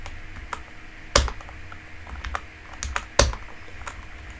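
A computer keyboard clicks in a few sparse keystrokes, with two sharper, louder key presses standing out over faint room noise.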